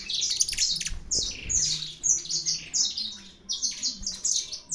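Saffron finches in a breeding aviary give a rapid series of sharp, bright chirps and squawks, loud and near, with brief pauses and no talk.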